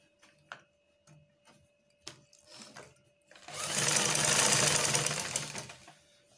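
A domestic sewing machine stitching a shift dress seam: a few quiet ticks and brief clicks, then a steady, fast mechanical whirring run of stitches lasting about two seconds before it slows and stops.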